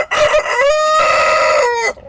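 A rooster in a coop of Bielefelder and Malines chickens gives one loud, close crow, a long drawn-out call that rises and then holds steady for about two seconds.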